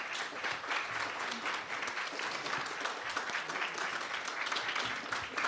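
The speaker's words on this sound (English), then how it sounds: "Can we please give them a round of applause?" Sustained audience applause fills the room at the Arab American Book Awards ceremony, a dense, steady wash of many hands clapping at even loudness throughout, with faint voices mixed in.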